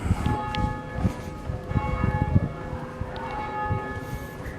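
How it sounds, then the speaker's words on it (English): Church bells ring at a distance near midday in Stamford, Lincolnshire, their sustained tones hanging over a busy outdoor background of low rumble and footsteps. "Hopefully you can hear the church bells in the background."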